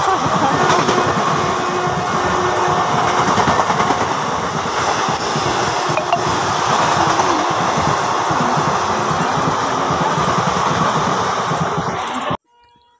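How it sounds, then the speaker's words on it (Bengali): At a railway station a train rolls in, a continuous loud rumble with metallic clatter and rising hiss that holds steady for about twelve seconds before cutting off abruptly. "তো হঠাৎ করে দেখো একটা ট্রেন আসছে"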